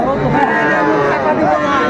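At the Raniganj cattle market in Dinajpur, a bull calf lets out a loud, sustained moo right beside the listener, wavering in pitch throughout.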